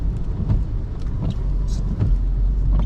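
BMW E39 with an open differential driving through a blizzard, a steady close engine and road rumble with soft thumps and scrapes from snow under the car.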